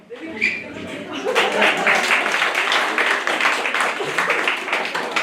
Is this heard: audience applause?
yes